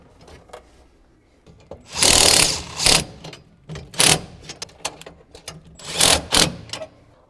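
Power tool tightening steering column bolts on a Fox Body car, bursts of whirring and ratcheting from a drill or impact driver with clanks and handling noises between.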